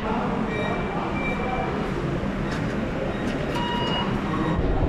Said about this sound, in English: Little taster of the metro line here.